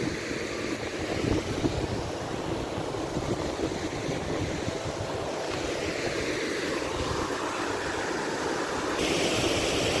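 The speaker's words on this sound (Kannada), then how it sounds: "ನೀರು ಸೌಂಡ್ ಕೇಳ್ರಿ, ಮಜಾ ಐತೆ ನೋಡ್ರಿ." Water rushing over a small waterfall in the hills, a dense steady roar with no breaks, near and moderately loud, mixed with some wind noise and no talking.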